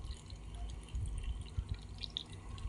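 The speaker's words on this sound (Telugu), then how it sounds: "వాటర్ అయితే పోసేసుకుంటున్నాను." Water is poured into a bowl of pakodi batter mixed with onion, cumin and curry leaves, a soft close trickle with light splashes and drips, no voices.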